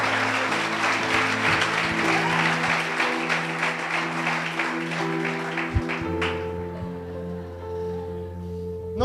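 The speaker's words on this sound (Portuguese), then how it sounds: "Uma salva de palmas para essa mulher" A church congregation applauds in a dense, sustained wash of clapping under a steady organ or keyboard chord, fading out after several seconds as the music continues alone.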